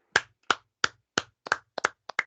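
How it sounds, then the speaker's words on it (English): Hands clapping eight times in a quick, even rhythm, close and crisp, with nothing else in the background. "Clap it up for the A's."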